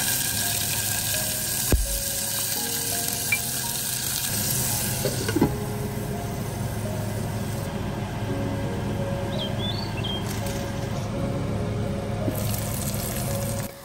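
Dal curry cooks and is tempered in a pan, giving a soft, continuous sizzle and watery bubbling close by, with occasional utensil clinks and no talk.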